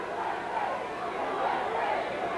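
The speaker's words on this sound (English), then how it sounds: "Crowd now chanting USA" An arena crowd at a 1985 Portland Wrestling event chanting "USA," a rhythmic swell of many voices rising and falling, heard at a distance beneath a commentator's voice.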